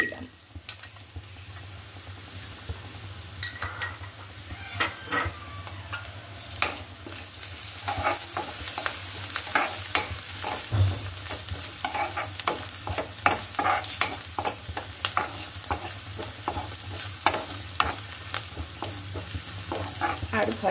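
Frying and stirring in a pan with a torn, lightly crushed bay leaf, producing a steady oily sizzle broken by many sharp scrapes and clicks of a spoon against the pan, close and continuous.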